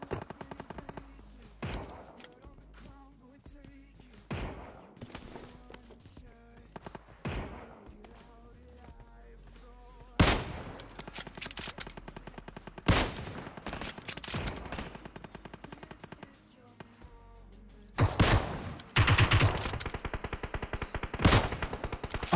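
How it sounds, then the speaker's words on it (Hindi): Continuous gunfire in a mobile shooter game, with rapid bursts and sharp repeated shots that come in loud clusters over a steady background, growing heavier toward the end. "यहाँ पे देखो लगातार फायरिंग साउंड आ जा रहे हैं"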